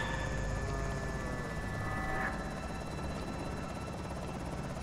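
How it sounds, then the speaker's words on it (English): A helicopter hovers overhead in the video game Project Zomboid, its steady rotor drone continuous and fairly close with no one speaking. "is the helicopter coming over here now?"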